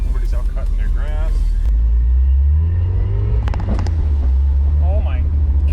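Mazda Miata on its first drive after a transmission and clutch swap, a steady low engine rumble running throughout with a few faint squeaks and people talking over it.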